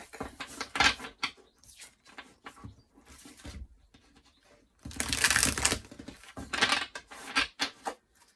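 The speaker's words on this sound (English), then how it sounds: "just cutting the deck." Cards of a Fountain Tarot deck being cut and shuffled, giving a close run of soft riffling and slapping bursts that come in uneven clusters, with a longer dense flurry midway.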